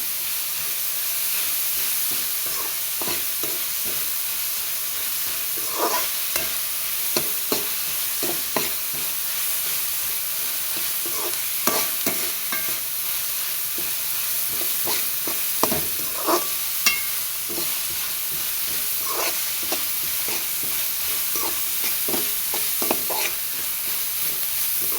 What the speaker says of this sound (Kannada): ಕಡಾಯಿಯಲ್ಲಿ ಸ್ವಲ್ಪ ಎಣ್ಣೆ, ಹಸಿಮೆಣಸಿನ್ಕಾಯಿ, ಕರಿಬೇವಿನ ಸೊಪ್ಪು ಮತ್ತು ಈರುಳ್ಳಿ ಫ್ರೈ ಆಗೋಕ್ಕೆ ಉಪ್ಪು ಇದೆಲ್ಲ ಹಾಕಿ ಚೆನ್ನಾಗಿ ಫ್ರೈ ಮಾಡ್ಕೊಳ್ಳೋಣ